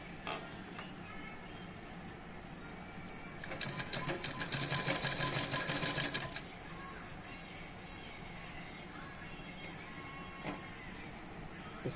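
A sewing machine stitches piping around the curved edge of a princess-cut blouse, running steadily at close range with a louder, faster burst midway, and no talking over it.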